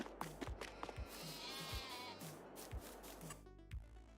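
Sheep bleat on a farm in Farming Simulator 22, several short calls spaced irregularly at moderate loudness over a soft ambient bed, without talk.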